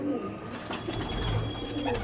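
Madrasi tournament pigeons coo in a low, murmuring way through two seconds of a steady, busy background, with a few soft calls standing out.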